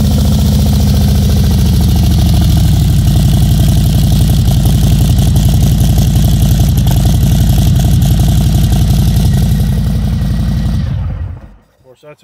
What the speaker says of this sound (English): It's got a real deep throaty sound. You see, I might be able to fire it up